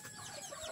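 Chickens raised at a home cluck softly in a short, faint burst of low clucking.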